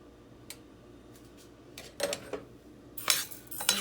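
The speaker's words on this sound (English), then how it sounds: "I'm just going to get that rice coated with the oil" Dry rice being stirred in oil in a pan to toast, heard as a faint scraping with scattered light clinks and clatters of a utensil against the pan, growing busier toward the end, with no talking.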